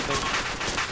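Rapid gunfire in Arma II rattles in quick repeated bursts, loud and close, forming a dense volley within a second.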